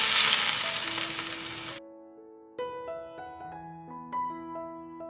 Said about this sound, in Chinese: 再铺上热油。